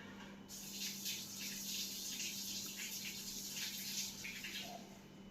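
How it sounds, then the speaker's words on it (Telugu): Water pours steadily into a bowl of pakoda batter made with rice flour, curry leaves and coriander, a soft continuous splashing gush that stays close and even for about five seconds, with no talking. "ఈ వాటర్ వేసేసుకుందామండి."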